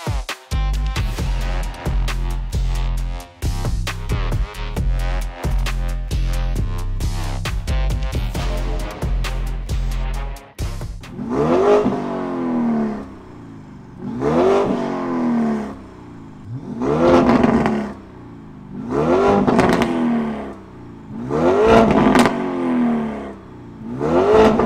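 A Lamborghini Urus with a loud aftermarket exhaust idles with a loud rumble, then revs sharply again and again in rhythmic bursts, exhaust roaring close by.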